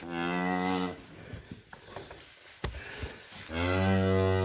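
Cows in a calving pen at a ranch during calving season let out two long, deep moos, one at the start and one at the end, with quieter rustling and scattered knocks in between.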